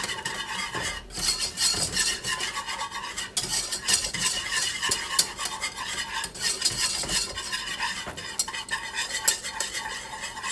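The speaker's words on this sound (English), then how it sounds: "I'm gonna just keep mixing this up until I get that golden brown" A roux cooking in a pan is stirred continuously toward golden brown, with a busy scraping, rasping utensil rhythm over a light sizzle, close and loud with no talk.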